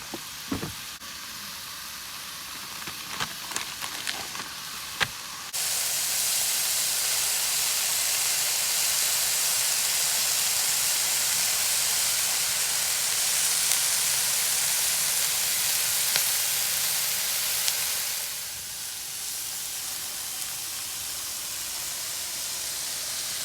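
Food sizzling steadily in a skillet on a camping burner inside a Ford Transit Connect camper van, a loud continuous frying hiss that swells after a few seconds of clatter and lasts a long stretch, easing slightly near the end.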